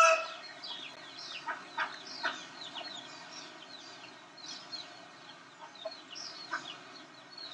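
A farmyard rooster and fowl from a farm sounds recording: faint, scattered clucks and short crowing calls over a quiet, steady background hum.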